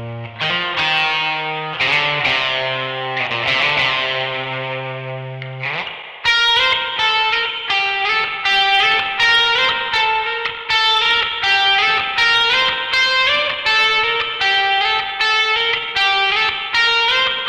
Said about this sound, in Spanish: esa misma guitarra va haciendo la figurita, pero con, repito, bastante reverberación